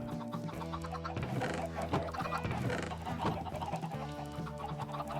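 Chickens cluck repeatedly in a video game, their busy clucks layered over steady game music with sustained tones.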